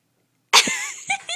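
A single abrupt, close sneeze bursts out of silence, followed by a brief trailing vocal sound.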